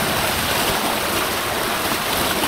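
Large stream of water rushing through a breach gnawed by beavers in a pond dam, a steady broadband roar of flowing water close by, continuous with no voices.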